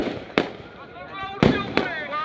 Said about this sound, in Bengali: হ্যাঁ, দিচ্ছি আসমান গোলা।